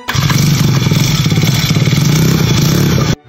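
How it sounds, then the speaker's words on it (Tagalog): A small surplus scooter engine runs steadily and loudly up close after an oil change, with a rattly, tinny idle for a few seconds before cutting off. "tunog lata na yung makina"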